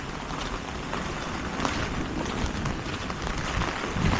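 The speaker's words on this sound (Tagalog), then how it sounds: "Lumalakas na naman ulan" Heavy rain sounds outdoors near a kangkong-growing area in the Philippines. It is a dense, steady, loud wash with no pauses or voices.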